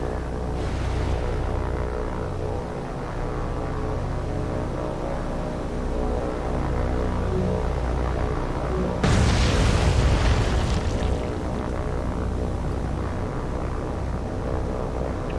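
Warships open fire on attacking aircraft in the naval video game War on the Sea. A steady engine drone runs throughout, broken midway by a loud, booming burst of gunfire.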